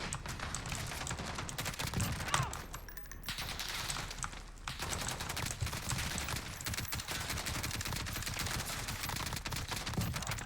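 Rapid automatic gunfire from Call of Duty: Modern Warfare, played in a match against bots, rattles on almost without pause: dense bursts of shots at a fairly low, even level, with a brief lull partway through.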